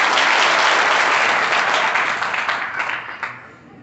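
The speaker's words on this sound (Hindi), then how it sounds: "सब लोग ताली बजा करके, तालियों की गड़गड़ाहट से मातृशक्ति का, नारी शक्ति का सम्मान एक बार पुनः ताली बजा करके" Dense, loud applause from an audience at a Brahmin community event in Khachrod, honouring women, sustained for a few seconds before thinning out into scattered claps.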